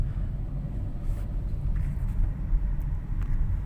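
Low steady humming drone inside a Toyota Vios at slow speed, suspected from a worn wheel bearing, a rumbling cabin noise with no talk.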